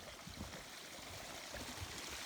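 A big waterfall beside a Seattle-area trail at night gives a steady, unbroken broadband rush of falling water, faint and distant-sounding, with no voices.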